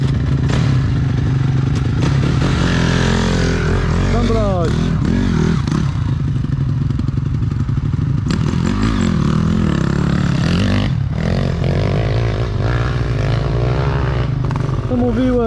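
Quad bike (ATV) engine revving continuously as it climbs a hill outdoors, loud and close throughout with varying throttle, while people talk and shout over it.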